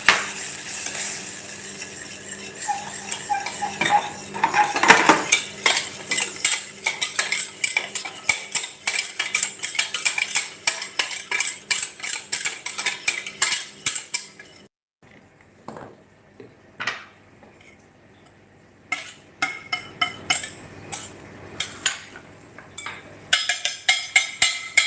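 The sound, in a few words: stirring flour into choux pastry dough in a pan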